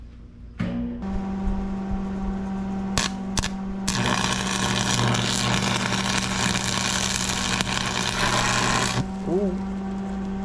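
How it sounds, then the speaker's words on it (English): An engine-driven welder runs during a PTO shaft repair, starting with a few short bursts before settling into a loud steady hum with a crackling hiss over it for about five seconds, then cutting off. "Let's get the welder fired up and see if it'll work."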